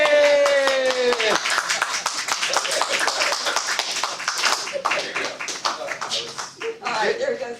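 A small club meeting audience claps a running-long speaker off, a voice trailing off at the start before a rapid, uneven burst of hand claps continues under scattered talk.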